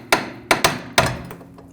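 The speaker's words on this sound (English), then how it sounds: "Just going to use a hammer." Hammer striking a bolt on the rear suspension of a 2009-2010 BMW 535i xDrive, four sharp metallic blows in quick succession, close and loud, with a short ring after each hit.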